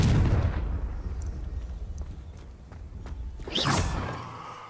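A Confringo blasting curse cast in Hogwarts Legacy: a heavy explosive burst at the start fades into rumbling debris, then a second bright whooshing crack near the end, with no voices.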